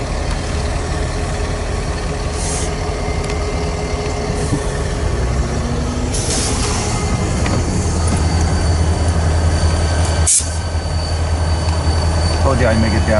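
A freight train with a caboose rolls steadily through Havelock Yard, its continuous low rumble of rail cars holding throughout, with occasional brief wheel squeals and rattles over the top.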